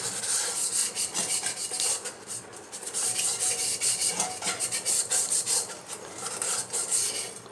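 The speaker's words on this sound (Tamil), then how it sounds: "உள்ளார நல்லா தேய்ச்சிட்டேம்மா" Vigorous hand scrubbing inside a vessel to clean it, a close, loud rasping rub in rapid back-and-forth strokes that pulses steadily throughout with no talking.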